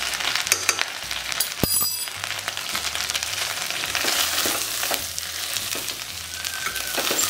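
Chana pulao sizzles steadily in a pan with biryani masala as it is stirred and mixed by hand, a continuous close frying hiss with soft scraping strokes and no talking.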